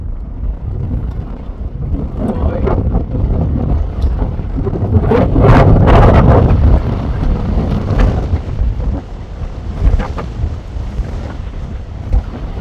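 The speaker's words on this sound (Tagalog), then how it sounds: "Lakas ng hangin oh." Strong wind on a mountain trail in Al Ahsa buffets the microphone in continuous roaring gusts, peaking midway, with a faint voice briefly audible.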